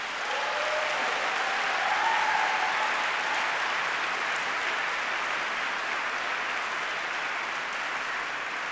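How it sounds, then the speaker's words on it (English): A large audience at a graduation ceremony applauds an award, a sustained, steady roar of clapping that swells slightly early on and then holds evenly, with no speech over it. "And I think they deserve applause for that."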